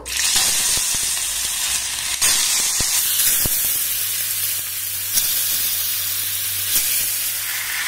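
Spiced potatoes sizzle loudly in a hot pan over low to medium gas flame, a constant frying hiss broken by a few sharp clicks and scrapes.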